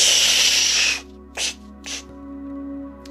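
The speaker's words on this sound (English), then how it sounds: "So we inhale like a crow drinks water." Kaki crow breath, air drawn in through pursed lips during a breathwork exercise: a long, loud airy hiss for about a second, followed by two short, softer breathy puffs, close and with no talk.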